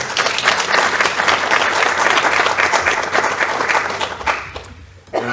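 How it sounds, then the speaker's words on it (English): A board of education meeting audience gives a sustained round of applause for board members, steady and full for about five seconds before tapering off sharply at the end. "So can we give a round of applause?"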